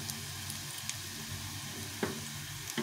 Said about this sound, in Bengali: এইভাবে করে আস্তে আস্তে কিছুক্ষণ ধরে ভাজতে হবে,